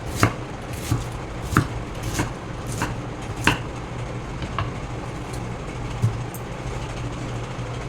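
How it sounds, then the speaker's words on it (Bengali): A knife chops cabbage into large pieces, landing about a dozen sharp, irregular thuds on a board over a low, continuous background rumble. "আমি এরকম বড় বড় টুকরো করে কেটে নেব।"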